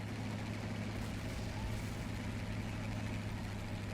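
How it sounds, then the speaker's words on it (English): M24 tank engine idling in a video game, a steady low rumbling drone with a constant throbbing hum, moderately loud and unbroken throughout with no voices. "That sounds like a fucking sick V8, dude."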